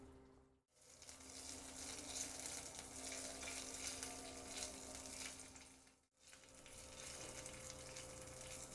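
Crushed dried fenugreek leaves (kasuri methi) frying in hot ghee give a steady, soft sizzle with fine crackling throughout, broken by two short gaps of near silence.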